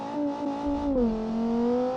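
A GT race car's engine holds a steady, tonal drone in a racing video game, sliding slightly lower in pitch midway through, with no voices.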